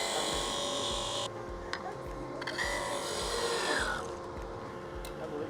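A wood lathe cuts off the bottom of a turned wooden box, giving a continuous close grinding and rasping hum with a faint whine and a few rough scrapes as the tool bites. No one speaks.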